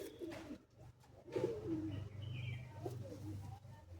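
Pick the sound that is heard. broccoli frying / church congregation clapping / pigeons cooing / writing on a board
pigeons cooing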